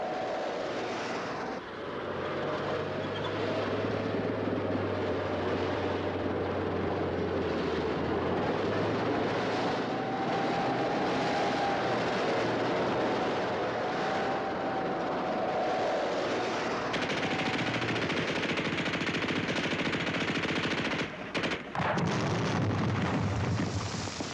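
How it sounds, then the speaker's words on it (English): A World War II-era tank rumbles in, a loud, steady low mechanical roar with a whining engine tone, building and continuous for the whole stretch. "Tank."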